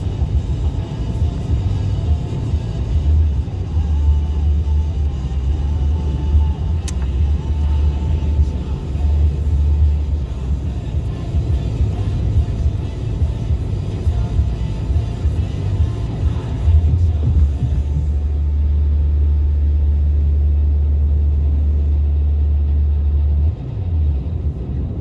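A car's engine turns at low RPM, around 2,000 or less, while driving. A deep, steady rumble with road noise holds for the whole stretch, swelling gently now and then.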